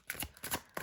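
Tarot cards being shuffled in three or four quick riffling bursts, close and fairly quiet, with no voices.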